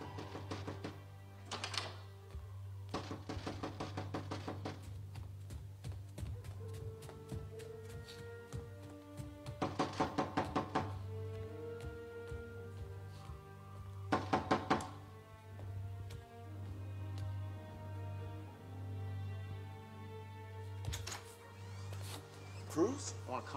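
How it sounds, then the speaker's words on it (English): A fist pounds on a door in a dramatic film scene, coming as several bursts of rapid, loud knocks spread through the clip over a steady low hum and background sound. "He's banging on his coach's door."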